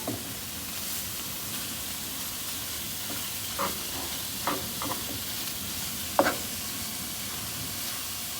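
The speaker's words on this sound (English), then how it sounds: "It's sizzling, I love it." Pad Thai noodles stir-fry in a hot pan with a steady, close sizzle and hiss, broken by a few soft scrapes and stirring knocks.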